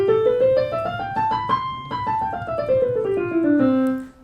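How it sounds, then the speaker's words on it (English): Piano notes in the upper treble range, a run of tones climbing then descending in pitch, played clearly and alone at steady moderate loudness with sustained ringing. "So the right side are the higher pitches which sound like this."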